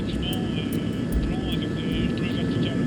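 An aircraft flies over an industrial zone, its engine a steady, even drone that holds for the full few seconds, with what may be a voice faintly underneath.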